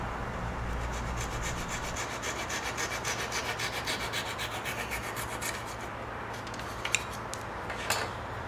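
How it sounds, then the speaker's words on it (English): A flush cutting saw cuts off a wooden peg, giving quick rhythmic rasping strokes close up that slow and stop, followed by a couple of light knocks, with no talking. "Grab your flush cutting saw, cut it off."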